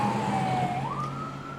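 An ambulance siren wails steadily from inside the vehicle, its tone dipping and then rising, over a constant low engine rumble.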